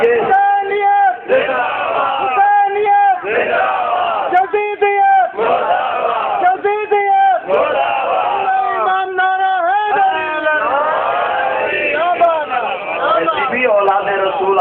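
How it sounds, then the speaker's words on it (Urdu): A large crowd at a Muharram religious gathering chants slogans in loud, rhythmic unison, voices rising and falling in repeated waves, close and forceful throughout. "اولاد رسول آج بھی موجود ہیں جو اپنے دادے کی شان پہ اچھل اچھل کر نعرے لگا رہے ہیں"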